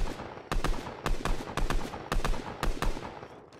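Gunfire in the Fortnite video game: rapid bursts of close, loud shots, several volleys in quick succession with short gaps between them.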